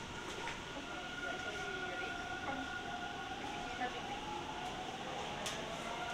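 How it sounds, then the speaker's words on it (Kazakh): An old Toronto subway train running in a tunnel, a continuous loud rumble with steady whining motor tones and occasional clanks, heard from inside the car. "Метродағы пойыздардың барлығы жаңа емес, кейде осындай ескілерде кездесе береді."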